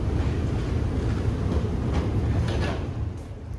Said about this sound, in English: Soviet underground trains.